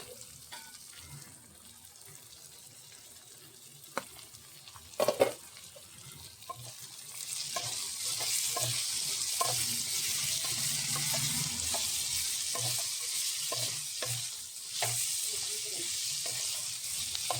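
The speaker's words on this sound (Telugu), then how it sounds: "ఇలా పొట్లకాయ ముక్కల్ని కూడా ఆయిల్లో అయితే కొంచెం వేగనివ్వాలి" Snake gourd pieces sizzle in hot oil, a steady frying hiss that swells louder partway through, with scattered clicks and scrapes of stirring and a brief clatter near the pan.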